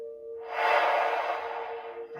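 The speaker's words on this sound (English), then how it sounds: "Remember, inhale deeply through the nose." During a stretching and flexibility class, a person draws one long, deep breath in through the nose, a close, airy rush lasting about a second and a half over a low steady hum.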